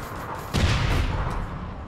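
A muffled boom from a grenade explosion in the APB Reloaded shooter game, rising suddenly about halfway through and rumbling off over a second, fairly quiet and distant.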